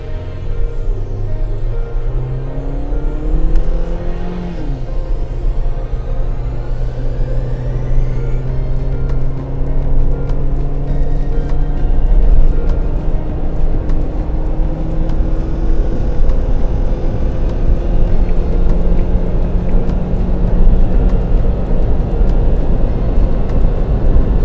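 A Suzuki Jimny engine revs hard while accelerating on a highway, loud and close, with rising engine tones climbing through gear changes over heavy road and wind roar, no voices.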